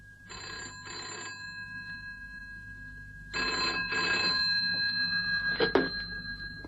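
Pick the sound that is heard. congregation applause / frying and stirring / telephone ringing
telephone ringing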